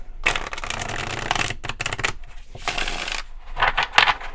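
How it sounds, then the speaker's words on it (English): A tarot deck, the Muka Tarot, being shuffled up close: bursts of papery riffling and card slaps in uneven runs with short pauses between, no voices. "I think we need one more shuffle here."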